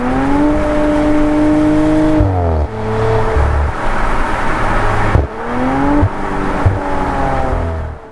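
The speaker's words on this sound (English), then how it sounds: "There's pops and crackles on the overrun, and all sorts of farts and stuff going on." An Audi RS4 or RS6 engine revving up and dropping off repeatedly, with rough exhaust pops, burble and crackle on the overrun as the revs fall, loud and close.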